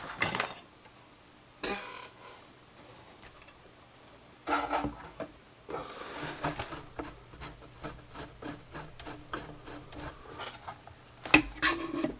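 Cloth rubbing and rasping over the wooden cabinet of a Bush DAC90A radio during polishing, in repeated close strokes with short pauses and a quiet background.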